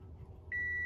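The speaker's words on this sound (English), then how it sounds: "the beeping stops." A single steady electronic warning beep from a truck starts and holds over low engine rumble, sharp and fairly close.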